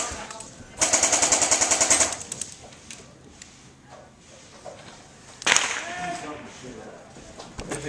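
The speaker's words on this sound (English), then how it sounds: "That's where I'm shooting right now." An airsoft M14 fires outdoors in a game, a fast rattling burst of shots followed after a pause by another sharp shot or two, close and fairly loud, with someone talking between them.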